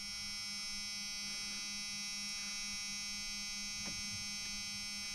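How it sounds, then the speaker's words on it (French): Key-in-ignition warning chime in a Jeep, a steady electronic tone sounding continuously and faintly inside the vehicle, with a couple of small clicks and no voices. "Ça, c'est la clé qui sonne."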